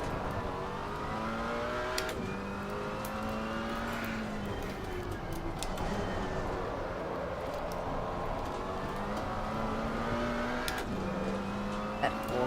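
McLaren 570S GT4 race car engine in the Assetto Corsa Competizione racing game at Circuit of the Americas, revving up through gears with rising pitch sweeps and shift drops, steady and moderately loud throughout.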